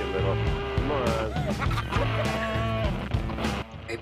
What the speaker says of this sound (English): Oh, come on, Chicken Little. Come on